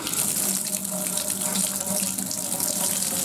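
Water gushes steadily from a newly installed bathtub diverter spout fitted with a new tub cartridge and knob, a constant bright hissing splash into the tub, close and unbroken.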